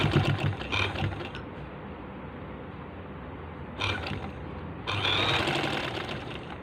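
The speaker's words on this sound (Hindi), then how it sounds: "अभी इधर एक सिलाई दूंगा।" A sewing machine stitches a net onto the centre of a cushion in short bursts, close mechanical whirring runs separated by a quieter pause.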